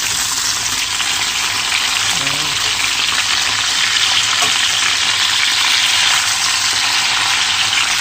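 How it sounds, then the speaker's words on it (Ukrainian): Steady, dense sizzling of large potato chunks frying with pork fat in a hot pan, a continuous crackle that stays fairly loud throughout with no talking. "Отакими здоровеними кусками нарізала, додала сала і разом жариться."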